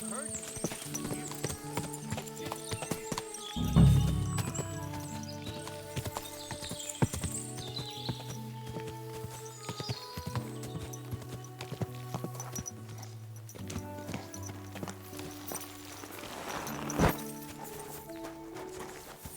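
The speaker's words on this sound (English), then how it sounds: "Lovely horses you have here." Horses clip-clop on hard ground in a fortress stable in the video game Kingdom Come Deliverance 2, hoof beats steady under a game music bed with voices talking, a louder thump and a brief whinny standing out.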